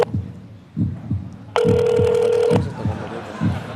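On a Korean quiz show, a phone call to a father begins with a single long ringback tone, loud and close, over a steady, pulsing, heartbeat-like musical thump.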